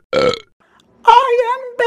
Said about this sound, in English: He's fucking belching after the soda!